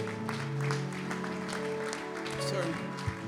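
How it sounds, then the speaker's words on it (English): Church congregation clapping in praise during a Sunday service, a steady wash of hand claps mixed with music and voices throughout. "Somebody give the Lord a hand clap of praise."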